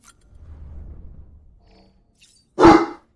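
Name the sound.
dog barking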